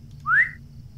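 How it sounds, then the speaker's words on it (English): A single short rising whistle from the video game Lord of the Rings Online, clear and bright, lasting about a third of a second over a faint low background hum. "It's the whistle."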